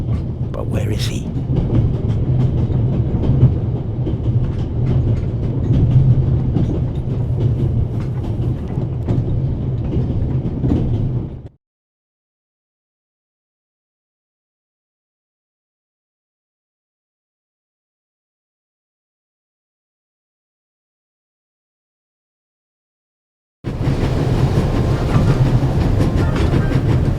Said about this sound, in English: It will be suicidal to climb up there while the train is at full speed.